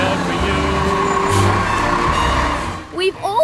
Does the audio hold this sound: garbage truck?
yes